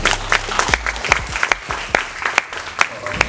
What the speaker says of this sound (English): Everybody give him another round of applause.